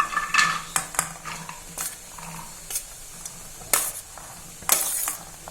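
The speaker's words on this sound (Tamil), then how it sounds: "பீன்ஸை இந்த வாணலில் சேர்த்து வேக வச்சுக்கலாங்க" Beans tipped into a pan for paruppu usili, a few separate clatters and scrapes of metal cookware with faint sizzling between them, close by and without talk.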